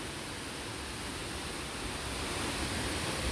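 Mantayupan Falls roaring as a dense, steady wash of falling water, loud and unbroken from start to finish, with no voices over it.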